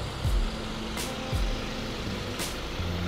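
Trucks rumble at a busy roadside rest stop on a Jakarta–Padang bus trip, a low steady engine drone with a few brief hisses and faint tonal beeps, heard at a moderate distance with no voices.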